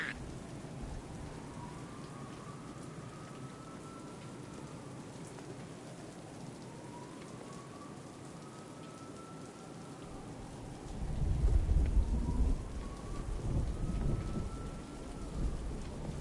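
Steady rain pours throughout a Batman: Arkham Knight game scene, with a deep rumble of thunder rolling in near the end, loud and low beneath the constant hiss of rainfall.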